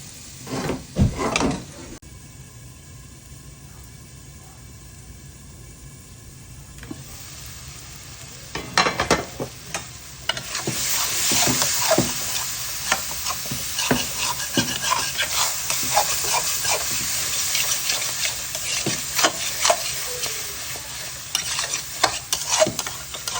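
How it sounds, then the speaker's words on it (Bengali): Spice paste for a chapila fish curry is stirred in a pan, starting with a few sparse knocks and scrapes, then building to a louder, continuous sizzle with frequent spatula strokes. "মশলাটা কষানো হয়ে গেছে"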